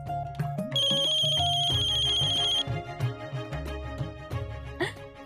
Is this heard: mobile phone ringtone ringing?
yes